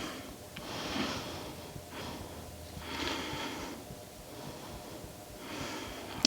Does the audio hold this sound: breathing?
yes